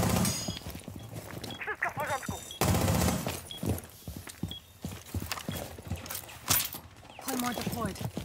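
Gunfire in Rainbow Six Siege, played with XIM: short bursts and single shots crack out amid game effects and clattering, heard beneath frequent talk from players.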